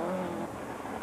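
A Mitsubishi Lancer rally car drives a forest stage at the Sean Conlon Tipperary Forestry Rally, a brief, moderately distant engine drone that fades slightly over a second.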